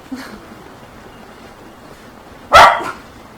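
A dog barks in the video game The Legend of Zelda: Breath of the Wild, one loud sharp bark near the end after a quiet stretch of faint ambient background, with no speech.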